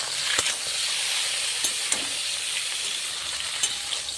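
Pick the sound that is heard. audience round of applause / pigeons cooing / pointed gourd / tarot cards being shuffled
pointed gourd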